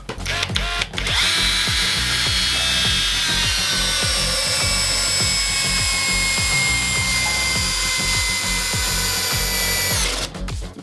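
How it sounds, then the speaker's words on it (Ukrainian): A Revolt multitool drives a 200 mm turbo screw into wood, a loud continuous motor whine with rhythmic thudding as the screw bites, running about ten seconds alone before stopping. "Без проблем заганяє 200-й турбошуруп."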